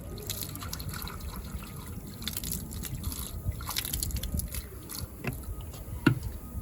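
Plenty of water rinses over a brass door handle after a cleaning product, with a steady close trickle and splash and a brief louder splash near the end.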